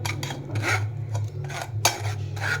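A metal ladle scrapes and clinks against a metal strainer while stirring tamarind garlic chutney through it, in a series of close, rhythmic scraping strokes with occasional sharper knocks.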